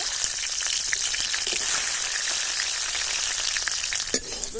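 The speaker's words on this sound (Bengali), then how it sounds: "এবার ওই তেলের মধ্যেই আমি রসুনও ভেজে নেব।" Garlic cloves fry in mustard oil in a kadai with a steady, dense, close sizzle. Crisp crackles and spits pop throughout, and one brief scrape sounds near the end.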